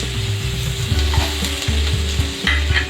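Diced potatoes fry in a wok of hot oil for spicy egg pasta, sizzling loudly and close throughout, with repeated rhythmic scraping and clattering of a spatula as they are stirred.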